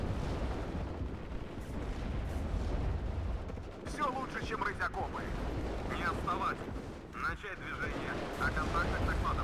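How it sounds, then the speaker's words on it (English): Incoming rocket barrage in WARNO, a rumbling run of heavy explosive impacts and whooshing launches rolling on continuously, loud and fairly close, with a person talking over the fire. "Rocket attack coming in."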